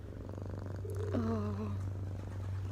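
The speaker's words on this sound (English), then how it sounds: "He just purrs. Can you hear him?" A cat purrs in a low, steady rumble close by in a barn, with a brief meow-like tone in the middle.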